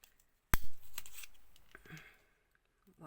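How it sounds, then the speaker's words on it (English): A paper circle punch cutting eyes for bunny magnets gives one sharp, close snap, followed by softer rustling of paper. "With another circle punch we will cut the two"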